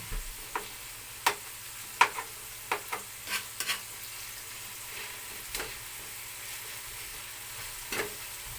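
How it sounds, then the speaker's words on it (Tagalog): Tomatoes and dinailan shrimp paste sautéed in a pan: a soft, steady sizzle runs underneath while a spatula scrapes and taps the pan in scattered sharp clicks, close and fairly quiet. "Gisa muna natin siya hanggang sa maluto."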